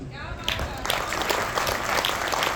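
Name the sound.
audience applause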